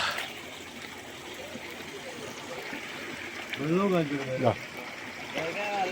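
A small trickle of clear water flows downward in a low, steady wash, heard faintly beneath someone talking nearby.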